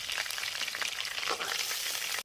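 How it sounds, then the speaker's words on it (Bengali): Fish seasoned with salt and turmeric fries in mustard oil in a kadai, a loud continuous close-up sizzle that cuts off abruptly at the end. "ভালোভাবে ভেজে নেব"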